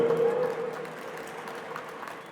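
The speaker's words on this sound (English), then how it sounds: "Let's give our volunteers a round of applause as well, too." Applause for volunteers at a community event, a moderate wash of clapping from a crowd that starts fuller and gradually thins and fades over a couple of seconds.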